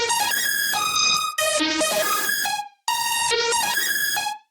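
Synth lead from the VVS Rays Shard Serum bank processed with a ShaperBox Rift preset, bright buzzy sustained notes with pitch swoops and sudden gated cut-offs in short phrases, loud and close, with no speech.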